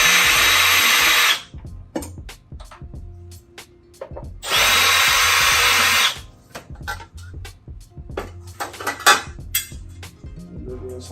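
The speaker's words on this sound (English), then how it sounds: "We'll just take these off with a" A cordless power drill spins in two loud bursts, removing the screws from the element access panels of a hot water heater, followed by clinks and rattles as the screws and metal panels are handled.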